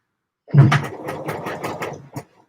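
A sewing machine stitches a Deer and Doe Lupin jacket in one close, continuous run of rapid needle chatter lasting under two seconds, starting abruptly and stopping with a final clack.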